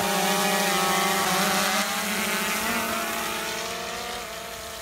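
DJI Phantom drone in flight, a loud close whine of buzzing propellers with layered harmonic tones that waver in pitch and fade slightly toward the end.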